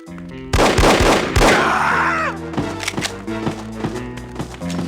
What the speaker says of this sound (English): I thought I heard gunshots.